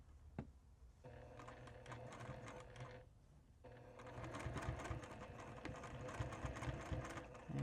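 A sewing machine stitches a scrappy rag quilt Christmas stocking, its close, steady rapid needle clatter running in two bursts with a short pause between as the fabric is repositioned for back stitching.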